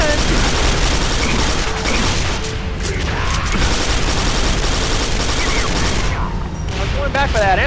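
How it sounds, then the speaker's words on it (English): Dense gunfire in the PC game Quake 4, rapid loud shots and booms filling the whole stretch in a continuous barrage. "That's the reason I went so crazy with the shooting."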